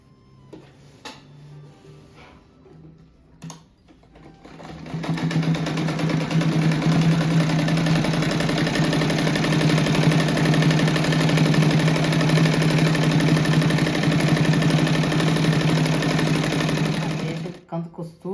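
A sewing machine stitches seams on a small-scrap patchwork rug, starting after a few seconds of faint handling and running as a steady, close, continuous whir with a low mechanical hum for about twelve seconds before stopping.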